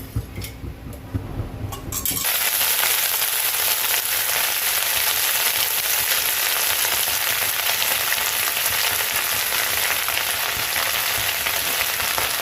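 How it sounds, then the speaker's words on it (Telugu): Oil sizzles steadily and loudly in a pan after a brief quieter opening, a dense continuous fry while making a dry mint chutney, with no talking. "ఇప్పుడు మనం ఫ్రై చేసుకున్నదంతా"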